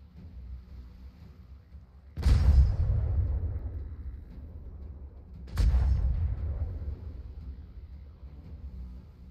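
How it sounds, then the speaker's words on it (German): Ship cannons fire in the pirate game Atlas during a naval battle: two heavy booming blasts several seconds apart, each with a long rumbling decay over low background noise. "Die Kanonenschläge von da oben, die fange ich mir jetzt einfach."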